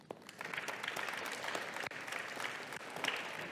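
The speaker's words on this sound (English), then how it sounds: "in a round of applause, please" Steady applause from an audience at a nurse aide pinning ceremony, sustained and fairly even throughout with a brief dip near the middle.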